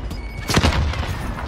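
Gunfire in a Warzone resurgence match on Rebirth Island, heard as one loud close burst of shots with a heavy thump around the middle of a short stretch, set against busy game noise.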